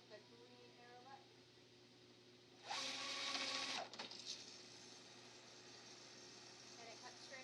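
A Lectra cutter makes a transverse cut across fabric, a loud steady mechanical whir lasting about a second then stopping abruptly, standing out against a quiet room hum.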